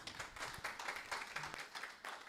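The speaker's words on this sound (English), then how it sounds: "Let's applaud for Peter." A Christian conference audience claps for a speaker, a soft, distant patter of scattered hand claps that stays faint throughout.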